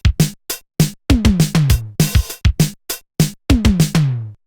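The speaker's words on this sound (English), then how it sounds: "I'm going to start with the Lindrum. You've heard this a million times." LinnDrum drum machine from the 1980s playing a dry pattern: a mid-heavy punchy kick, a crisp dry snare and resonant pitched toms in quick, clear hits, loud and close, with no voices.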